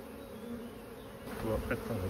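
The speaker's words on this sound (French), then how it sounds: "les abeilles s'affairent sur cette ruche à colmater les brèches" Honeybees buzz steadily at close range on a hive, sealing gaps with propolis, a dense droning hum that swells a little louder toward the end.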